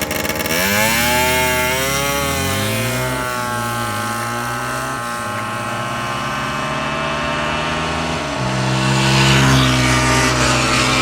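Gilera motor scooter engine at a race start, revving hard with rising and falling pitch sweeps as the variator engages, loud and close, with a second surge of throttle near the end.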